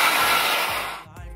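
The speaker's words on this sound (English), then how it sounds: "So now I'm gonna blow dry." A hair blow dryer whirs loudly and steadily while drying defined natural curls, its broadband airflow hum fading as it switches off near the end, with a brief trace of music after.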